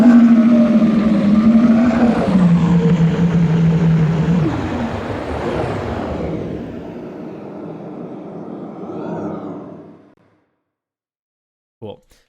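Sci-fi vehicle engine sound effect built from air conditioner recordings: a loud, droning hum with a steady low tone that shifts downward, thins out and fades to silence around ten seconds, followed by a brief click.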